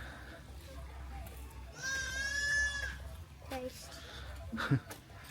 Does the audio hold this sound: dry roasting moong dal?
no